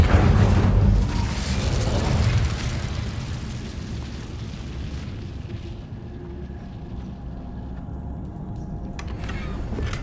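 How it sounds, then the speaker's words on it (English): An Incendio fire spell bursts in Hogwarts Legacy with a loud booming roar at the start that fades into a rumbling, crackling fire tail, heard alone. "Incendio!"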